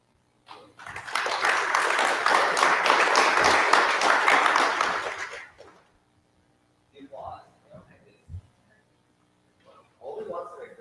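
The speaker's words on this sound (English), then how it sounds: "Only once in a great while will we get applause, and that's really good." Church congregation applauding during a Sunday service, a dense burst of clapping lasting about five seconds before fading, followed by quiet with brief talk afterward.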